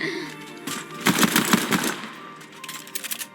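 Rapid bursts of automatic gunfire in the video game Fortnite, a quick rattle of shots with a brief pause before a few lighter pops, loud and close over a background game soundtrack.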